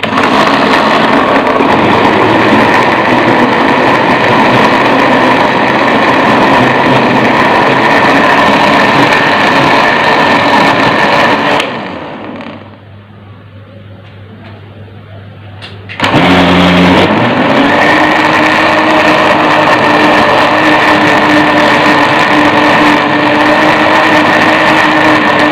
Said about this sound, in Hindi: और इसको ब्लेंड कर लेंगे अच्छी तरह।